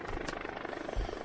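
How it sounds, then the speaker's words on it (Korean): A medical evacuation helicopter carrying a patient to a hospital in Samcheonpo, its rotor blades thumping in a steady, fast, loud chop throughout with no voices over it. "환자가 헬기를 이용해 병원으로 긴급 후송됩니다."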